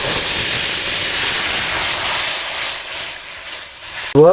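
Marinated spice paste for a thin katla fish curry hits hot oil in a pan, letting out a loud, steady hissing sizzle that runs throughout, with a brief clatter at the very end.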